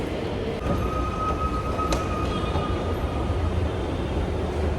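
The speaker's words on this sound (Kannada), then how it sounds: "ದಾಸರಳ್ಳಿ ಮೆಟ್ರೋ ಸ್ಟೇಷನ್ಗೆ ಬಂದೆ" A metro train rumbles steadily with a constant droning roar and a faint high whine, heard from on board or close by at a station.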